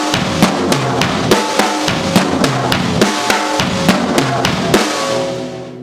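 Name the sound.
drum triplets across snare, toms, bass drum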